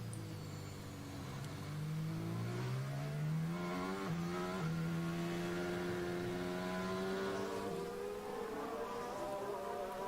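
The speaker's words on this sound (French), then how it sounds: "On retrouve Daniel Ricciardo maintenant, caméra embarquée, il est 9e" An AlphaTauri Formula 1 car's engine, heard from the onboard camera during the 2023 Brazilian Grand Prix sprint race, whines loudly and continuously, with its pitch climbing through the gears and dipping at shifts.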